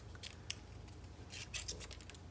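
Small scissors fussy cut around a stamped paper image for a handmade snowglobe Christmas card, giving a series of quiet, crisp snips at close range in an irregular rhythm, with clusters of quick cuts and no talking.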